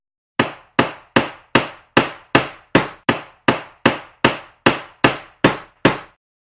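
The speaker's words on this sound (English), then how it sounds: "Hammer." Hammer hitting a hard surface on a construction site: about fifteen sharp, evenly spaced blows, each ringing briefly before the next, close and loud with no voices.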